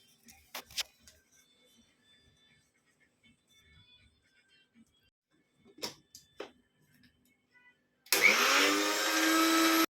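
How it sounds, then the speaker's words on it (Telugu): A kitchen blender mixing homemade cake batter kicks in abruptly after a few scattered clicks and taps, then runs as a loud, steady whirring motor to the end. "ఇప్పుడు వీటన్నిటిని మళ్ళీ ఇంకొకసారి బ్లెండ్ చేసుకోండి."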